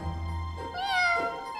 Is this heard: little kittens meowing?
yes